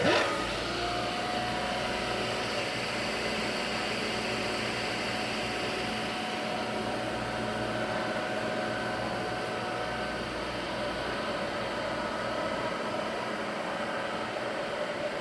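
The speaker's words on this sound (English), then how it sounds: "High speed spindle." An XYZ SLV turret milling machine runs its high-speed spindle, giving a continuous, even mechanical whir with a thin steady whine, unchanging throughout.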